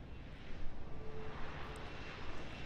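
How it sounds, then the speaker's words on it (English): Helicopter landing in the video game Deus Ex: Human Revolution, a steady broadband rotor and engine roar that holds constant throughout, loud and close with no speech over it. "the helicopter starts to land"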